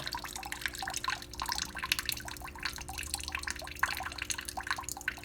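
Engine coolant from a VW Jetta MK4 draining onto the ground, a steady patter of drips and trickling splashes under a faint background hum, continuous and close.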